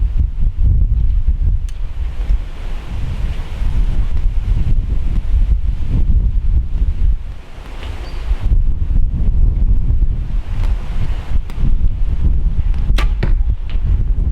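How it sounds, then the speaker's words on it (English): Strong wind buffeting a microphone outdoors on an archery range, a loud continuous low rumble in gusts with a brief lull midway and faint rustling. "Now there's a fair bit of wind around today"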